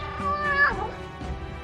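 A single cat meow, close and clear, rising and then falling in pitch over about a second, with no talk.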